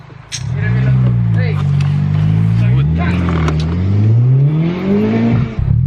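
Turbocharged Honda Type R with an Invidia exhaust accelerating hard, heard from inside the car: a loud rising engine drone climbing through the gears with a brief dip at a shift, and occupants reacting over it.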